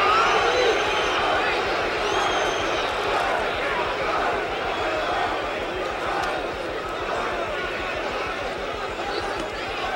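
A large boxing crowd roars and cheers for Muhammad Ali at his 1976 third fight against Ken Norton, a dense sustained din with a ringside commentator talking over it.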